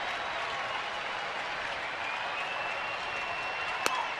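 A baseball stadium crowd cheers and applauds during a New York Mets at Arizona game, a wide, steady roar of clapping and voices at a distance with one sharp crack near the end.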